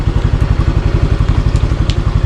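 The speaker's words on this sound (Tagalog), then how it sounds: "mamaya gagarahin na natin yung motor natin" A motorcycle engine idles close by in a residential subdivision, giving a loud, steady low-pitched chug with a regular pulsing beat and no talking over it.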